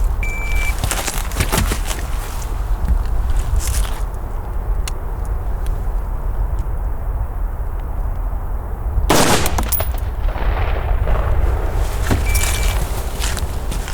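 Rifle shots ring out loud and close during a shooting drill on an outdoor range, a few sharp reports spaced through the stretch over steady background noise.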